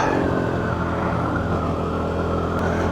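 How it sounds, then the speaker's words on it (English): A KTM 390 Duke motorcycle engine revs in a steady, fairly loud drone with a slight dip and rise in pitch, and no talking over it. "But this engine does prefer to rev."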